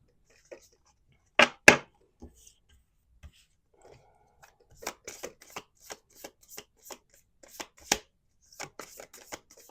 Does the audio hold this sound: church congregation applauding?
no